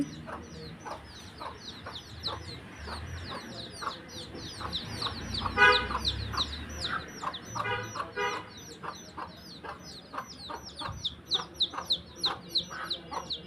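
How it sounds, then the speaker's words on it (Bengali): Hen clucking repeatedly as she forages with her chicks outdoors by a jackfruit tree, with high peeping chick calls running throughout and a breezy outdoor background. "দেখেন মুরগি বাচ্চাদের নিয়ে"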